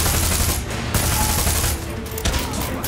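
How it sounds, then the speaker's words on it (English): Mounted gun firing in Far Cry 6, a loud continuous burst of rapid automatic shots with brief pauses, dense and close, heard alone. "Shoot the gun."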